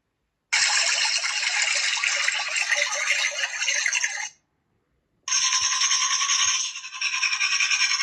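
A bathroom tap running for washing hands and face, a loud steady gush of water flowing into a sink, then a brief pause and a second stretch of running water.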